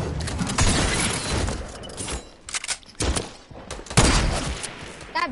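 Video game gunfire rattles in dense, loud volleys of rapid shots that keep going with only brief gaps.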